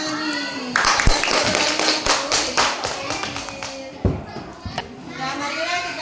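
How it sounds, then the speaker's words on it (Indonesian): A class of children claps in a rhythmic burst of quick, sharp claps that fades and then picks up again, close and lively, with children's voices chattering underneath. "Oke, tepuk tangan nih."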